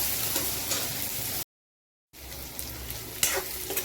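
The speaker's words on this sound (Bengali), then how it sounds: "টমেটো পেঁয়াজ ভাজা হয়ে গেছে" Chopped onions and tomatoes fry in a pan for a fish dish, producing a continuous close sizzle with stirring scrapes, broken by a brief dead-silent gap partway through.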